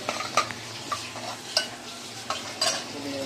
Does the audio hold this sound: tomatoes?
yes